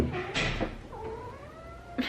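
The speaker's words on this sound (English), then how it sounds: "Please excuse my cat." A house cat lets out a few drawn-out, whiny meows, close and fairly quiet, with short pauses between them and no one speaking.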